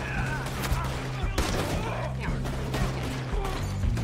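Bursts of gunfire in the video game Red Dead Redemption II, several sharp shots and rapid volleys over a low game background, with speech faintly mixed in.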